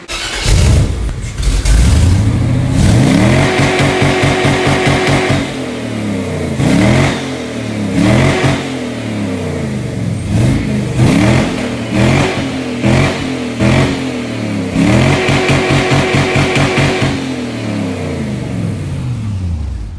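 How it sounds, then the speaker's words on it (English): An LS-swapped Fox Body car engine starts, then revs repeatedly toward redline, loud close rising and falling blasts in quick succession with a rough idle between pulls, no talking. "Let's see if she throws flames off redline."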